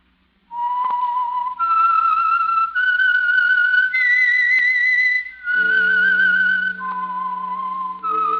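A clear, loud whistled theme tune rings out alone, a melodic sequence of sustained pitched notes stepping up and down, the signature signal of The Whistler radio mystery program.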